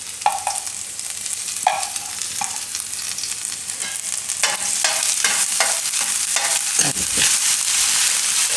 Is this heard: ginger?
yes